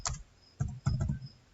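Keys typed on a computer keyboard while entering a password on a tax-filing website: three or four short, soft click bursts spaced apart, fairly quiet and without speech.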